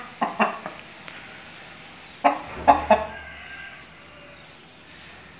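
An aseel rooster and hen cluck in a few short bursts, clustered near the start and again in the middle, with quiet gaps between.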